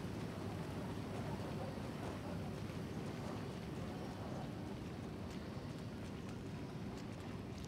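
Steady rain in the video game Present, a constant faint hiss of falling drops with a low rumble underneath and no break.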